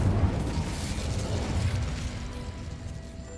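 Incendio fire spell cast in a wizard video game, a loud roaring, rumbling burst of flame that fades out over a few seconds, with no speech.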